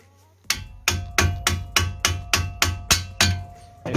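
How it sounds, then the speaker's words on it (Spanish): A hammer strikes rusted, seized brake bolts on an Opel Ampera/Chevrolet Volt with about ten sharp, ringing metallic blows in a steady, quick rhythm, loud and close. "y el martillo lo vais aflojando, ¿vale? Los tornillos."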